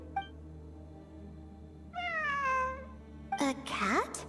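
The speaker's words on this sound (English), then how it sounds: "A cat? I think there was one earlier, too." A cat in the Genshin Impact video game gives a drawn-out meow, then a second, rising meow near the end. Both are close and clear over a faint background hum.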